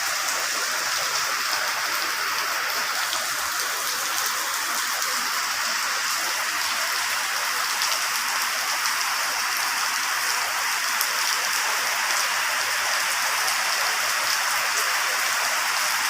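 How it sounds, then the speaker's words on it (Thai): Steady heavy rain falls on surfaces outdoors, a dense continuous hiss of drops at even loudness throughout, with no voices or other sounds on top. "ฝนตกไปไม่ได้ค่ะ"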